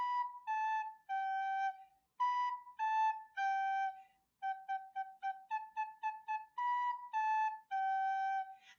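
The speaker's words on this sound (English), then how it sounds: "The first song is going to be Hot Cross Buns," A beginner's recorder plays Hot Cross Buns, clear, pure, breathy notes stepping down in three-note groups and then quick repeated notes, close and moderately quiet, with no talking.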